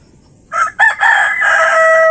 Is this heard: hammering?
no